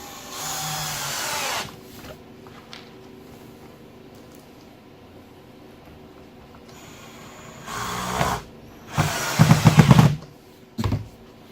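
A power drill drives screws into a board in a few loud bursts, one short run early, then a quiet gap, then several close whirring and chattering bursts near the end with no talking.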